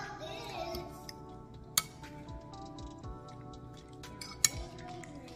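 A utensil stirring creamy cucumber salad in a bowl, producing quiet, steady clinks and scrapes, with two brighter taps against the dish standing out.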